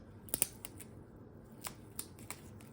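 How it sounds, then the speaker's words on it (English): Several sharp snips of scissors cutting through a stiff, woody old flower spike, spaced irregularly in a quiet room, with small rustles between the cuts. "They're not always as easy to cut with scissors because they are very woody."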